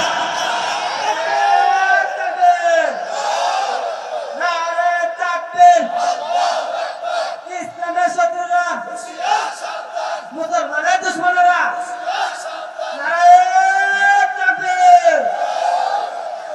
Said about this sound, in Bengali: কে কে চান হাত তুলে তাকবীর দেন, তাকবীর দেন।